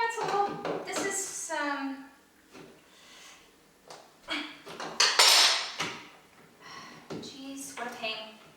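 Parts of a metal portable dance pole clank and ring as a locking nut is aligned, with irregular bright metallic knocks and scrapes, some with short ringing tails, mixed with a person talking.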